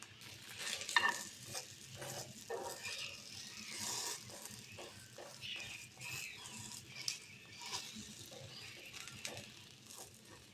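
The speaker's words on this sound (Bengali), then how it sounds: "বেবি প্যানকেক বানাচ্ছি ঘি দিয়ে" Small baby pancakes fry in ghee in a pan with a soft, steady sizzle. A utensil scrapes and taps against the pan at irregular intervals. The sound is close but quiet.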